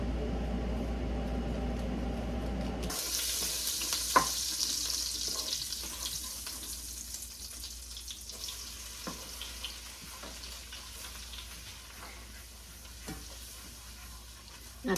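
Three tablespoons of butter melt in a pot for Southern chicken soup, heard as a steady, close sizzle that bursts in loudly after a brief low hum, with occasional soft clicks and no talking.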